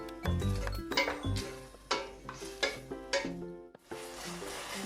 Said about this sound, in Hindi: ये बीफ हमने अच्छे से भून लिया है